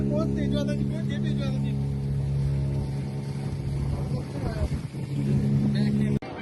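A motorboat engine runs at a beach along the Konkan coast, a loud steady drone close by, with people talking over it throughout.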